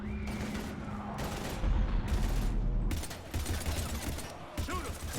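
Battle gunfire in Mass Effect 3 crackles behind dialogue: scattered rifle shots and bursts over a low rumbling backdrop, with voices shouting throughout.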